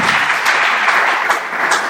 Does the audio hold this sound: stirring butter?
no